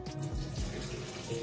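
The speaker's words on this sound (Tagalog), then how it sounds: "Tanggalan na muna natin ang tubig." Hot water from boiled pasta poured off into a kitchen sink, a steady rushing splash that runs close and loud the whole time, with no talking over it.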